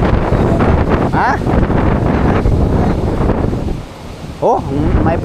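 Typhoon Ramil's wind roars across the coast at Dinahican, Infanta, Quezon, a loud, steady buffeting with some rumble that dips briefly near the end before surging again. Voices speak over it.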